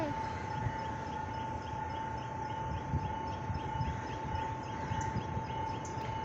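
A train, engine number 830, stands stopped at Bemmulla station near Gampaha, Sri Lanka, giving a steady loud drone with a constant high whine and faint background voices.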